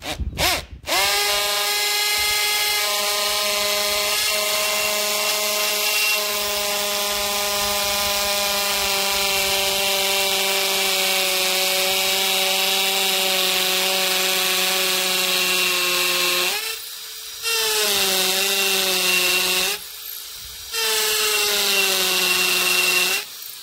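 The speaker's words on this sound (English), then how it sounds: "Switch it over to hammer, don't forget to do that, and we're going to go." An Ozito 18V 60Nm brushless hammer drill bores into timber in hammer mode with a loud, sustained, buzzing whine, broken by two short pauses near the end before it spins up again.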